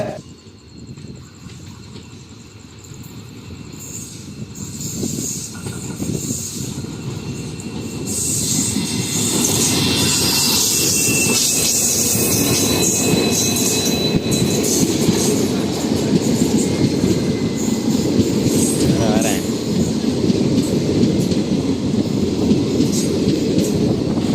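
The Rameswaram Express passenger train rolls past, building from a low rumble to a steady loud roar of wheels with rhythmic clacking and occasional metallic squeals.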